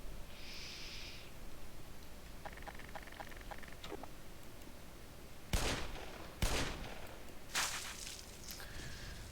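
Gunfire sounds in the Half-Life Xen Beta video game: a few scattered sharp shots toward the end, preceded by quieter electronic beeps and tones. The shots are moderately loud over a low background hiss.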